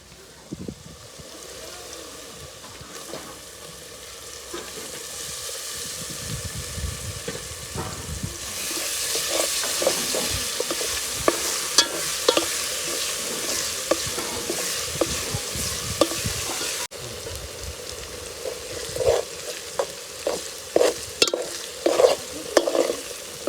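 Garlic-chili paste fries and sizzles with onions in a pan for a spiny gourd curry, with a constant hiss under repeated stirring scrapes and clinks that grow busier and louder toward the end.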